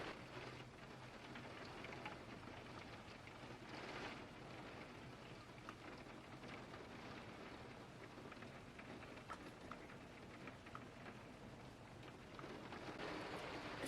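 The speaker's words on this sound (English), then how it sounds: "it's raining very heavily now" Steady heavy rain pours down, a dense continuous hiss of drops with no voices, holding at an even level throughout.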